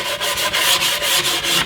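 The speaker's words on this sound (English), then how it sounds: "always make sure that you're sanding along the long arm of this edge banding" Hand sanding along the edge banding on a plywood edge, a steady run of rhythmic rasping strokes about every quarter second, close and fairly loud with no talking.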